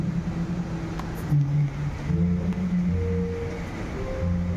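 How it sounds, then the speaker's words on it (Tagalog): Strong ocean waves wash and rumble at a beach resort, a steady broad roar that stays loud and continuous with low surges throughout, no speech over it. "lakas ng alon. Tinatangay kami."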